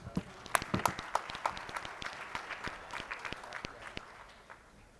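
Scattered applause at a men's breakfast, a smaller group clapping with distinct individual claps that start lively and gradually thin and fade.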